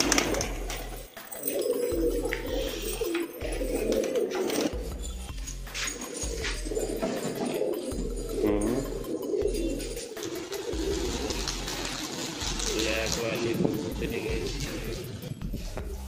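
Pigeons coo in low, rhythmic bursts nearby on a rooftop in Muzaffarnagar, India, repeating throughout, while a person talks over them and faint clinks sound in the background.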